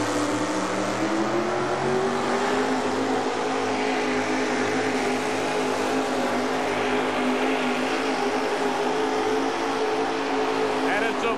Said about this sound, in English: The truck never faltered 1 inch going down the track